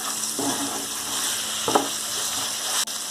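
Oil poured into a hot pan while cooking brinjal and potato curry gives a steady close sizzle throughout, with two brief louder crackling bursts and a small clink near the end.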